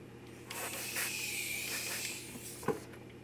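An airbrush lightly mists paint onto the top of a quarter-scale Aquaman figure, giving a soft, close hiss in short bursts, followed by a faint click.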